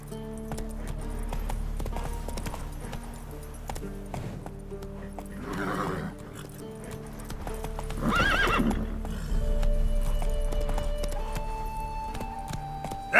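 Roach, a horse in The Witcher 3, clip-clops along at a steady walking pace and lets out two loud whinnies partway through, with low ambient game sound underneath.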